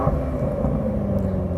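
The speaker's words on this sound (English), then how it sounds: "Let's hear it. Go on, rev it up." A 2021 BMW M5 sedan engine produces a steady, close, deep rumble that stays even throughout the brief moment, with no clear rise in pitch.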